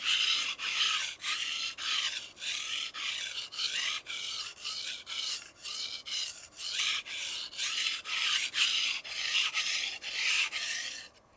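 A kitchen knife blade drawn in steady push strokes along a sharpening stone from tip to heel, about twenty rhythmic rasping passes close up, each a short bright scrape with brief gaps between, no voices.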